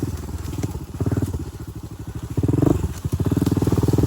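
A Honda TRX250X ATV engine revs loud and close while riding through storm-damaged woods, its throbbing exhaust rising and falling with throttle changes, with occasional clatters and thumps from the terrain.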